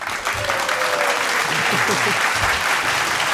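A canned studio applause effect triggered from a button fills the space with a steady, dense wash of clapping and crowd noise for its whole length, with a faint voice underneath.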